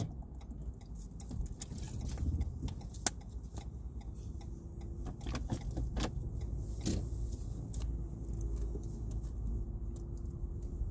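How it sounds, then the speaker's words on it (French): A car pulls away in forward gear during a driving lesson, its engine a low, steady rumble under a rapid ticking, like an indicator, with scattered clicks from inside the cabin. "On met la marche avant et on repart."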